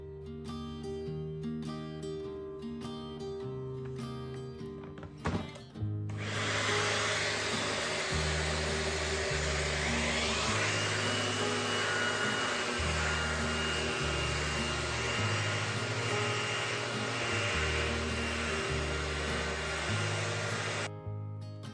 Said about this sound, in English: I'm going to attach my vacuum to the sander, and I'm going to use level 1 speed.